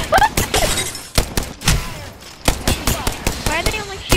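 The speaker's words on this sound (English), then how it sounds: "Why are they only shooting me?" Rapid gunfire in Apex Legends, heard as loud repeated bursts of shots with thuds and impact sounds in a close battle, with a person talking over the shooting.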